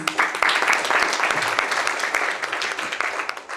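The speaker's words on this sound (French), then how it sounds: "Je voudrais vraiment qu'on les applaudisse" Audience applause at a May Day Labour Day celebration in Lima, a full burst of many hands clapping, dense and loud, tapering slightly toward the end.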